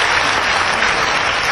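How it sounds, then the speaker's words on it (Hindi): A crowd claps in welcome at a public gathering honoring visiting saints, producing a dense, even wash of applause that holds steady and loud throughout the brief moment. "आप भी तालियां बजा के स्वागत कीजिए,"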